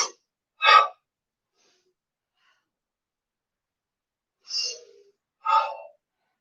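Sharp inhaled breaths during a kettlebell workout, four short, close gasps separated by long silent pauses.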